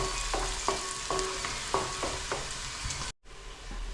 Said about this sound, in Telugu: ఉల్లిపాయ దోరగా వేసుకుందాం